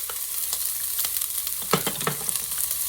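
A medium sweet onion sizzling and frying in olive oil in a Dutch oven, with a steady crackle and a few sharper bursts as it is stirred, close and moderately loud.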